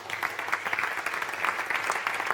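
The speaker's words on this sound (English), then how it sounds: "Round of applause for Jane Dixon." Audience applause for a speaker at an evening community talks event in Takaka, a steady dense patter of many hands clapping at moderate level with no voices over it.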